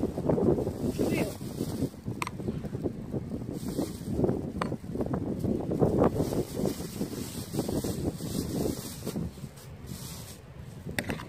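Outdoor wind buffets the microphone in low, gusty rumbles that rise and fall throughout, with a person talking over it.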